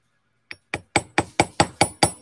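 A hammer lightly taps a wire spiral bracelet eight times in an even, quickening rhythm, each close metallic strike ringing briefly before the next.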